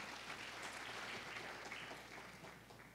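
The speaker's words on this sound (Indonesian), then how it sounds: "Berikan tepuk tangan dulu dong." A church congregation at a Surabaya service claps together, a soft, even patter of many hands. It is heard from some distance at low volume and tapers slightly toward the end, with a faint hum beneath it.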